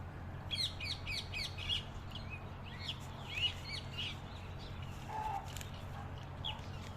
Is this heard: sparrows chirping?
yes